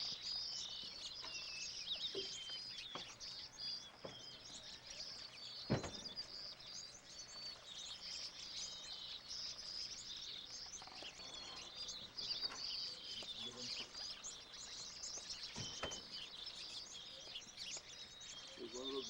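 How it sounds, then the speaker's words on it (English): Gambel's quail and other birds call around a feeding spot in Rodeo, New Mexico, with scattered chirps and tweets over a faint steady background and a few sharp clicks. "Here in Rodeo, they have the Gambel's quail."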